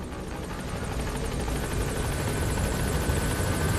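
A Metal Gear Solid V helicopter arriving at a landing zone, its rotor a loud, steady whirring drone with rapid blade chop, close and sustained without talk.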